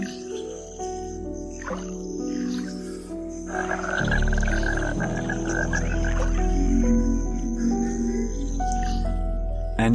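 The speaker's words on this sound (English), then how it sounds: "the vocal frog also provides this watery habitat with its characteristic soundscape" Frogs croak steadily in a wetland habitat, a dense chorus of repeated calls with rising and falling intensity, fairly close and continuous throughout, with insects faintly trilling in the background.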